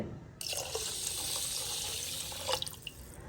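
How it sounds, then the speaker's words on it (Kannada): Tap water running into a sink while rice is washed in a home kitchen, a soft, steady splashing stream that starts abruptly after a brief silence and continues with small gurgles and drips, no voices. "ಅಕ್ಕಿನ ಎರಡು ಮೂರು ಸಾರಿ ಕ್ಲೀನಾಗಿ ತೊಳ್ಕೊಂಡಿದ್ದಾಯಿತು ಇವಾಗ ಇದಕ್ಕೆ ನೀರು ಹಾಕಿ"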